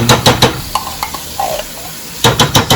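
Thick tomato paste being sautéed and stirred into vegetables for lasagna, with loud, close bursts of a spoon scraping the pan at the start and end, a soft sizzle and a few light clinks in between.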